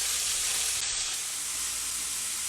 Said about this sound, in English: So I'm using this same pan to saute my onions, my peppers, my parsley, and my green onions.